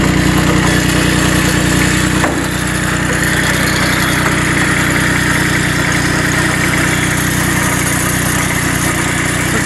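Bolens Iseki H1502 diesel tractor idling after a cold start in snow, a loud, steady close-up engine rumble with a slight change in tone early on, then an even idle.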